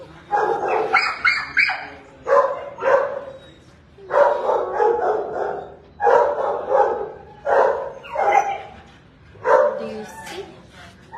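Dogs at the Dallas animal shelter bark in repeated loud bursts at a steady rhythm, with yips and whimpers mixed in and people talking underneath.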